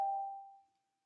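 A doorbell gives a single soft chime that rings out and fades away within under a second, faint and alone in an otherwise quiet room.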